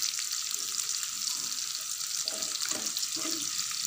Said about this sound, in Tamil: நான் சிம்மர்லயே தான் வெச்சு ரோஸ்ட் பண்றேன்